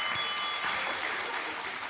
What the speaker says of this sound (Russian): Можно защититься от этой энергии с помощью простого металлического колокольчика.